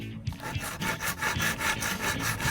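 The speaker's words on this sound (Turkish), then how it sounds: "Hadi o zaman bu ağacı keselim." Toy saw rasping back and forth through a toy tree in a children's car-play game, a steady run of about eight rhythmic strokes, close and clear with no talking.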